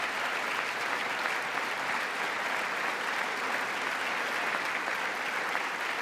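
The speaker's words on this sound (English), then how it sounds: "There's not too many Democrats clapping for the Laken Riley Act." Sustained applause fills a large chamber during a presidential address to Congress, a dense, even wash of many clapping hands that holds steady throughout.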